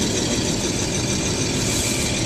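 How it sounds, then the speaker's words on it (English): A 1950 Chevrolet truck with its HBA engine idling, a loud, close, steady rumble with even vibration and no pauses or revving. "This truck does have the HBA engine in it"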